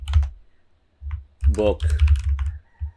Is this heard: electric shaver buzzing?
no